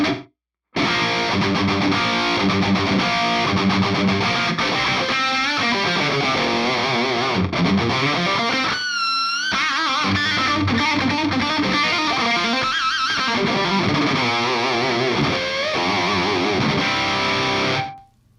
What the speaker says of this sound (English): I do have a bit of a delay, simple delay, very quick